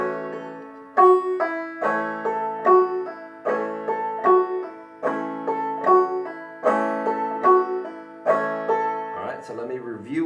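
A banjo repeats a pattern of a fretted note pulled off, then a strum and a thumb-string pluck, in a steady rolling rhythm. The playing is close and clear and ends with a brief wobbling note.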